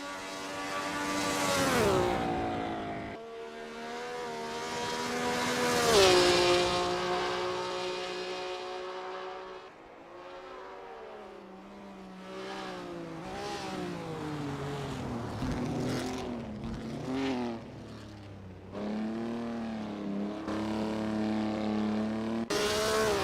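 A race car in Assetto Corsa laps the Thomson Road Grand Prix circuit, its engine revving high and climbing through gears, dropping on downshifts, then surging again in repeated waves close up.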